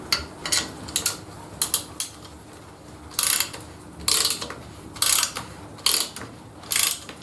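A homemade router lift mechanism turned with a mini wrench gives bursts of rapid ratcheting clicks, close and crisp, repeating in short spurts separated by brief quiet gaps.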